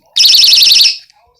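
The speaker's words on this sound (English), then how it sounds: "That's just the alarm that controls it" A loud, rapidly pulsing electronic weather alert alarm tone sounds for just under a second, then cuts off, close to the microphone.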